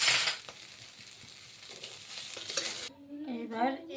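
Food frying and being stirred in a pan for a Bengali dish of shrimp with mustard and gourd leaves, a close steady sizzle with scraping, cut off near the end by a brief voice.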